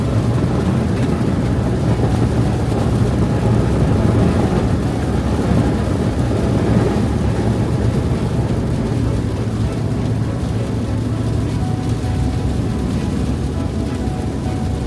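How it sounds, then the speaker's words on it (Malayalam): Heavy rain pounds a van at night in Canada, a dense, steady roar that runs unbroken and close throughout, with no voices. "മഴ നല്ല രീതിയിൽ കൂടാൻ തുടങ്ങി"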